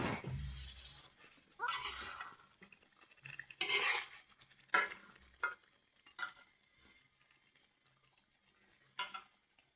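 Potatoes being stirred into chicken meat cooking in a pot for a home-style chicken curry, with intermittent scraping and clattering bursts of a spoon against the pot, moderately close, separated by quieter pauses and no talking.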